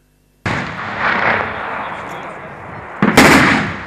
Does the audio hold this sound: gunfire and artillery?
yes